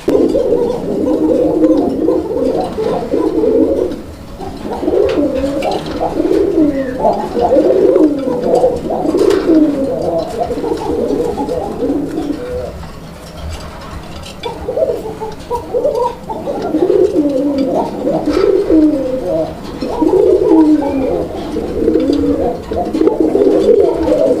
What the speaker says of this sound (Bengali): তো এটা হচ্ছে কোকা কবুতর